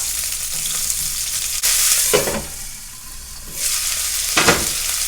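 Potatoes frying with pork belly in a pan, a steady close sizzle swelling into two loud bursts of crackling as ingredients are stirred or added.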